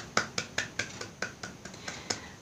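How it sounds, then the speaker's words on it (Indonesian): A single person claps in a classroom, about ten sharp, evenly spaced claps at a quick steady pace, close and fairly faint with no talk over them. "Yuk kita beri tepuk tangan bersama-sama."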